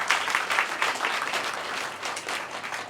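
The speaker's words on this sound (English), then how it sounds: "a round of applause for them, please" Steady applause from an audience, many hands clapping together in a dense, continuous patter that holds its level throughout.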